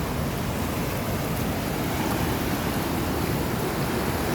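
River flooded to 7400 cfs rushing through the Eagle whitewater park, a loud, continuous broadband roar of churning water with no breaks and no voices.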